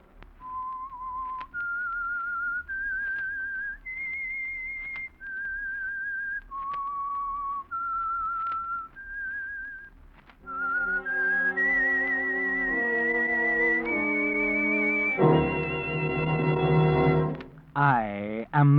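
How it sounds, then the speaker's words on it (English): A whistled theme melody for The Whistler radio mystery program, a lone whistler carrying a slow, eerie tune of sustained notes before an orchestral swell takes over and continues the theme. "That whistle is your signal for the Signal Oil Program"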